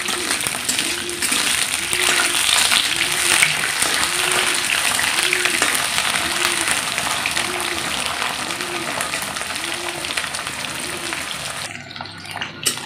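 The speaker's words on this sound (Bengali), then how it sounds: "আর এখন দিয়ে দিলাম সজনাগুলো হালকা করে ভেজে নেব।" Moringa drumsticks fry in hot oil in a wok, a loud dense crackling sizzle that continues steadily throughout, with a faint rhythmic pulsing beneath it, then drops away near the end.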